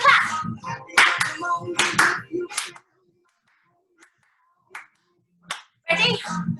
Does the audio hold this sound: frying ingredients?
no